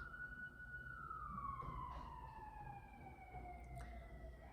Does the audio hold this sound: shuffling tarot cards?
no